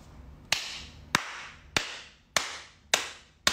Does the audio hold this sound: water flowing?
no